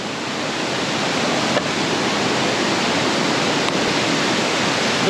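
Minnehaha Falls waterfall in Lakemont, a steady, loud rush of falling water that fills the whole clip without a break and with no voices over it.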